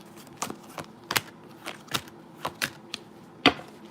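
Tarot cards being shuffled by hand, a series of short crisp riffling and slapping bursts, about eight separate snaps at an uneven rhythm, close and fairly quiet.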